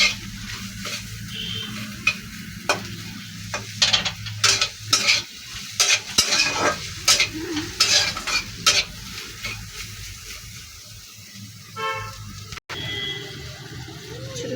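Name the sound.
neem leaves with papaya frying and being stirred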